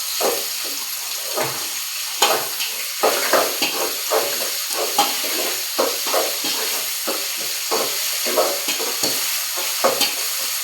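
Onions sautéing in a pan for egg curry, with a spatula scraping and stirring in uneven strokes over a constant close sizzle of hot oil; no voices.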